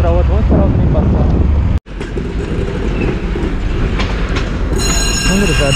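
A train rolls past close by, loud and continuous, with clattering wheels, rumbling cars and high screeching wheel squeal near the end.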